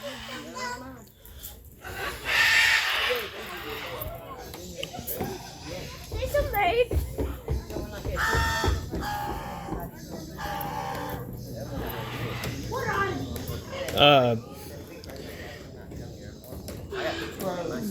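Several African pied crows give loud, harsh, agitated calls in repeated bursts, close by, with people talking and a voice mixed in throughout.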